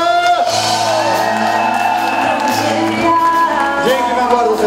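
A festival crowd at SMAK 2016 roars for the band, a loud, continuous mix of shouts, whoops and cheering voices with held tones over the din throughout.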